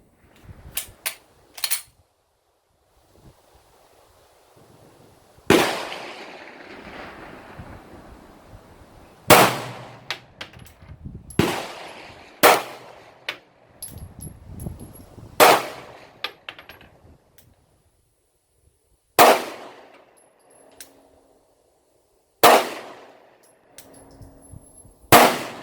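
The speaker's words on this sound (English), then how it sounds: "today we are doing a first look of the Glock 19X." Glock 19X pistol firing Winchester 115 grain target ammunition at 10 yards, loud sharp shots spaced irregularly across the stretch, some in quick pairs or triples, each echoing briefly outdoors with no talk.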